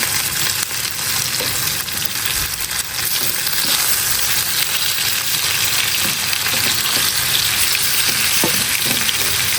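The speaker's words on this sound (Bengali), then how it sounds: "এখন আবার লাস্টে একটু ফ্রাই করে নিচ্ছি মাছগুলো" Fish frying in a pan with onions and green chilies, a loud steady sizzle running throughout with occasional small clicks and stirring taps, no speech.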